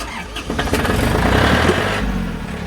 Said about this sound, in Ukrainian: трактор гарно завівся